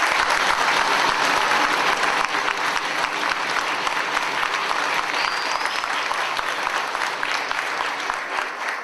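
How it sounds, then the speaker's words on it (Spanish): Sustained applause from an audience at a political launch event, a dense and even clapping roar that fills the room and carries on steadily throughout. "Les pido a mis compañeros y compañeras que les demos a todos ellos un caluroso aplauso como reconocimiento hacia ellos."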